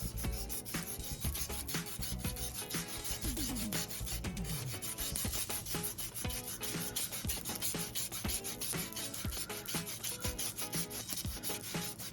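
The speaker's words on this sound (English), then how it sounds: "We'll then grab some sandpaper and we're just going to rough up the tip." Sandpaper roughing up the tip of a golf club shaft during club repair, close and steady scratchy rubbing strokes repeating continuously, no voices.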